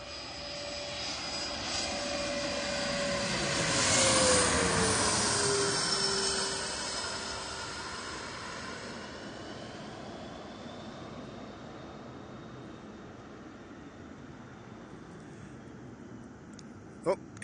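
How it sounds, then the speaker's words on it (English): A low-flying airplane coming in to land at DC roars past overhead, swelling to a loud peak and then fading away as its engine pitch drops. "here comes a plane"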